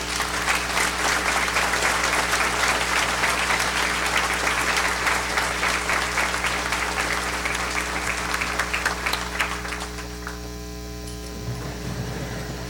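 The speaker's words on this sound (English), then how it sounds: "give all of you a round of applause" An audience at a Class of 2010 commencement ceremony applauds in a dense, sustained wash of clapping over a steady low electrical hum, fading toward the end as the hum remains.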